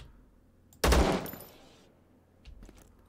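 Sniper fire in the video game Zero Sievert: a single loud, sharp rifle shot rings out and decays, followed by fainter distant pops.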